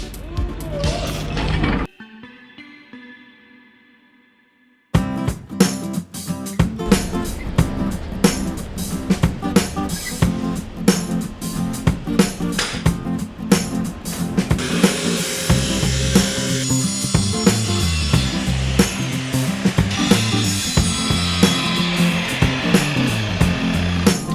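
Sawing through material while building a DIY camping trailer from a New Beetle, a loud continuous buzzing cut that starts abruptly after a brief pause, with dense rasping texture running steadily to the end.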